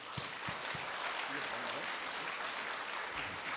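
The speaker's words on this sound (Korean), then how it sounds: "우리 큰 박수로 목사님 맞이합니다." A congregation at a church revival meeting claps to welcome a pastor to the pulpit, a faint, distant, continuous wash of hands with a few sharper thumps mixed in.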